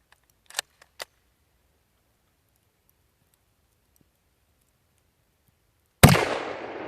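A single sharp shot from a 1933 Mosin Nagant 91/30 rifle cracks loudly after a few faint mechanical clicks of the bolt, with the report ringing out and decaying.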